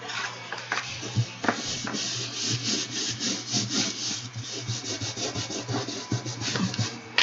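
Repeated rubbing strokes work paste wax into a handmade traveler's notebook cover, a close, dry, scratchy swishing in an uneven back-and-forth rhythm, with no talking.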